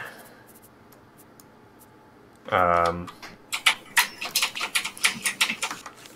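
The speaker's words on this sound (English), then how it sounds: "I can hear you tapping your keys" Computer keyboard keys are tapped in a quick irregular run of light clicks, close and fairly soft, following a brief spoken hesitation from a nearby voice.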